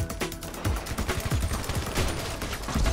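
Rapid gunfire in GTA 5 Online, a dense burst of repeated loud shots fired in quick succession over game background noise.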